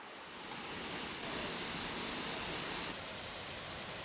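Suhom waterfall in the protected Ulu Masen forest of Aceh roars as a steady, broad rushing wash of falling water, constant and fairly quiet, with no voices over it.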